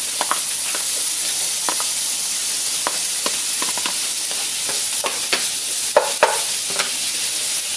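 Garlic and onion sauté in a pan with a loud, constant hiss of frying, punctuated by clicks and scrapes of stirring, heard close with no voices.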